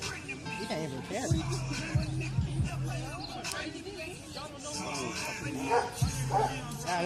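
A dog whimpers and gives short yips and barks, loud and close, while several people talk over it throughout.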